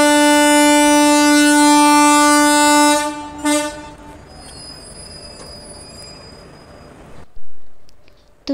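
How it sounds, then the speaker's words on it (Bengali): A train pulling out of a station, opening with a loud, long sustained horn blast that cuts off, then wheels squealing and rolling rail noise, with another brief horn burst near the end. "তো ট্রেন ছেড়ে দিল"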